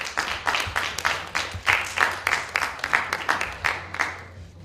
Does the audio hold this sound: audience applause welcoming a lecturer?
yes